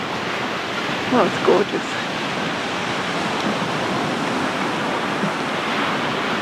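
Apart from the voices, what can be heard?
Atlantic Ocean waves along a seaside walkway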